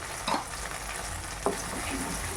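Ground curry leaves fry in oil as a spatula stirs them, giving a steady soft sizzle with a couple of brief scraping clicks against the pan.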